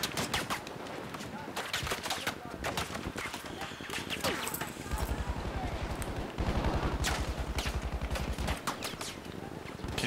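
Dense bursts of gunfire from a Battlefield V match, with rapid automatic rattles and scattered shots overlapping throughout, loud and close, while players talk over the shooting.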